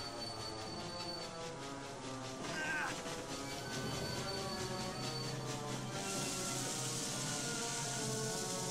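A heavy train in the video game TimeSplitters: Future Perfect rumbles steadily with layered mechanical drone and rhythmic clatter, building slightly in intensity; no talking.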